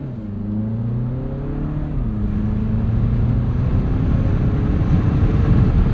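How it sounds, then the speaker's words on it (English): A 2025 Mini Cooper S Convertible with a turbo engine, top down, accelerates hard in go-kart mode; a loud, continuous engine drone climbs steadily in pitch through the run, with wind and road roar beneath it. "I'm going to put this into go-kart mode to give myself just that much extra throttle response here for the takeoff."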